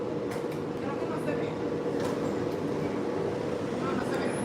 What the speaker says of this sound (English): So here's the monorail.